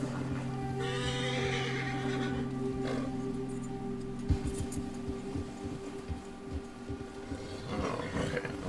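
A horse in the game Red Dead Redemption 2 lets out a loud, drawn-out neigh near the start, followed by snorts and hoof sounds over a steady game background, with no talking.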